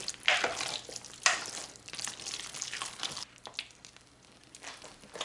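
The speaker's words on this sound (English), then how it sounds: "We're going to stir that in real good." Half a pound of shrimp gets stirred into a pot of jambalaya, soft wet sizzle and scraping spoon strokes that fade toward a quieter simmer near the end.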